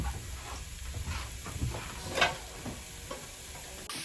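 Potatoes with spices sizzle softly in a pan at low heat, a faint crackle with occasional light scrapes from stirring and no voices.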